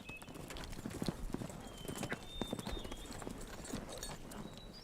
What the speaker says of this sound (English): I didn't want the horse to get spooked and start running.